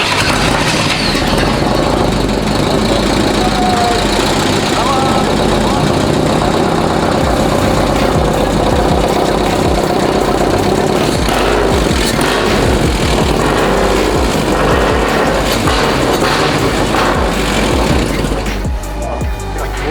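A VAZ 2102 engine runs after starting, settling into a loud, steady idle with a rough, throbbing low rumble that continues unbroken, with a brief disturbance near the end.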